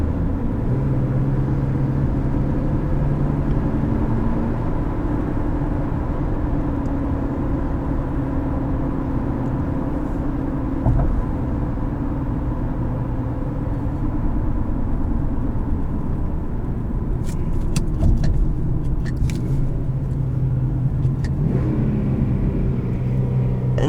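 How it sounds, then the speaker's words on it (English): 2014 Infiniti Q50 sedan in manual mode, a continuous loud engine drone from inside the cabin with shifting pitch as it blips through rev-matched downshifts. "And do you hear the rev match downshifts too?"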